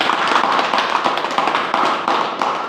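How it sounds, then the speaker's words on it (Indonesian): A church congregation of inmates and police applauds at a Polres Toba service, a loud, dense crackle of many hands clapping that continues without pause. "Sekali lagi tepuk tangan buat Tuhan kita"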